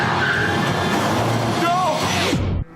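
A car in a film scene skids and screeches on the road before striking a man, tires squealing loudly under a droning engine, then everything cuts off abruptly.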